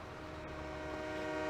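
A long freight train with many hopper cars passes in Farming Simulator 22: a steady rumbling rail drone with a sustained horn-like tone, fairly faint and swelling gradually over a brief moment.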